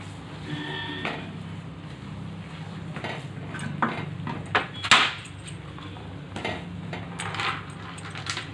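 A spoon or spatula scrapes now and then through soft kesari in a pan, cooked with ghee and coconut oil. The strokes are faint and well spaced over a low steady background hum.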